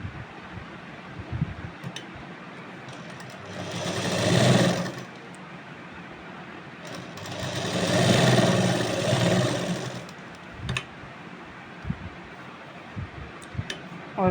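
A sewing machine stitches a Rajasthani kanchli blouse in two loud whirring runs of a few seconds each, separated by quieter handling sounds and pauses.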